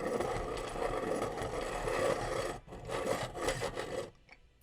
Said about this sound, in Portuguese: Vamos travar o mecanismo, inserir o lápis e começar a apontar.